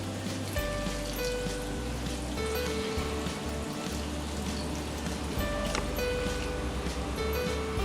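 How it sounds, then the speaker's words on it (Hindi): Cold water splashes and pours over freshly boiled, drained noodles, a steady close patter and trickle that continues unbroken. "अब इसके ऊपर हम ठंडा पानी डालेंगे"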